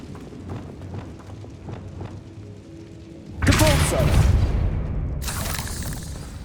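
In the video game Hogwarts Legacy, a Confringo spell bursts into a loud, sudden explosion with a heavy boom and shattering debris, followed by a second sharp blast moments later, breaking a quieter stretch of voices and ambience.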